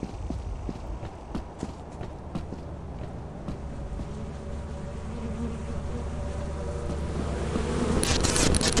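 Bees buzz in the video game Lethal Company as a steady droning hum beneath scattered ticking and tapping footstep-like clicks, growing louder toward the end with a final burst of noise.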